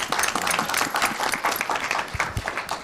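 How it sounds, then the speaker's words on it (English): Loud, sustained audience applause at a budget retreat meeting, dense clapping from a crowd filling the whole stretch. "let's give them first a big round of applause"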